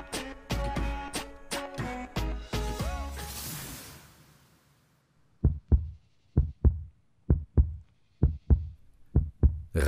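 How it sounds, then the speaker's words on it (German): Sound-effect heartbeat: after a few seconds of loud music fades out, deep paired thumps begin and repeat at a quick, steady rhythm, close and prominent. "Rasender Herzschlag"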